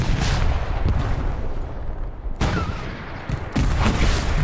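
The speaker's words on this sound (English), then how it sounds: "Did someone just throw a grenade?" Heavy booms and blasts from grenades in the World War II shooter Hell Let Loose, several loud bursts in quick succession with rumbling gunfire between, close and harsh.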